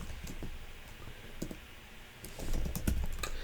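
Keys clack in quick irregular bursts on a computer keyboard while Java code is written in the Eclipse editor, the taps close and fairly soft, thickening toward the end.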